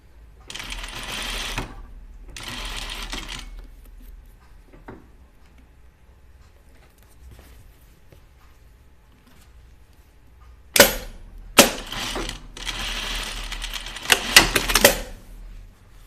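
A sewing machine stitches a dress seam in two short runs near the start, then quiet while fabric is adjusted, followed by louder, choppier bursts of stitching and clatter toward the end.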